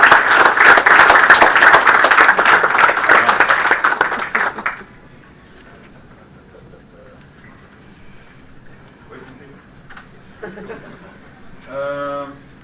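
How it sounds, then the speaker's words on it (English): Loud audience applause at a game studio build review, with steady clapping that cuts off abruptly, followed by quiet room tone and a brief voice near the end. "let's give Tyler Cook a round of applause for the progress he's"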